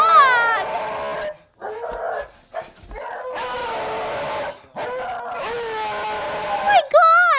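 A dog yips, whimpers and barks in loud, high, wavering bursts broken by short pauses, close by, with people talking at times.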